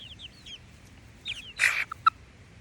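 Backyard chickens clucking inside their coop: a few soft, scattered clucks early on, then a sharper burst of squawking and a couple of short clucks near the end, close by and with no talking.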